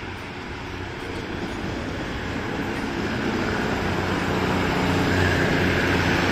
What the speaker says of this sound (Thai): ขบวน 415 นะครับ กำลังมาแล้วนะฮะ